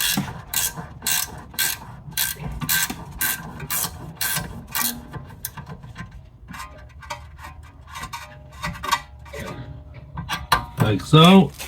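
Ratchet spanner clicking on a brake caliper bolt of a VW Passat 2.0 during rear brake pad replacement, a fast run of sharp close ticks in bursts, then scraping metal handling near the end.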